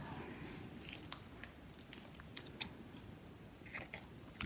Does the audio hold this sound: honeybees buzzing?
no